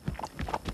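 Hooves of a gaucho horse trotting in a quick, even clip-clop rhythm, several distinct hoofbeats close by with faint talk in the background.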